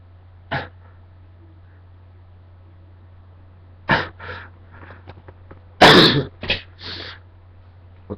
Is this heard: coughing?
yes